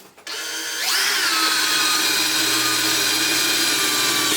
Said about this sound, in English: So I'm going to get our hole drilled